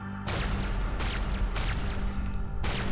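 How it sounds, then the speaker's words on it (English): A series of loud, booming blasts with sharp broadband bursts, about four in quick succession, dense and harsh: mines exploding in the space game Everspace 2. "Such pretty explosions when they blow up."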